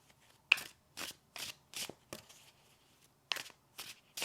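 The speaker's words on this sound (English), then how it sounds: "I'm going to draw you a few more tarot cards" Tarot cards are shuffled in a series of short, crisp riffling bursts at a steady rhythm, close and fairly quiet, with no talking.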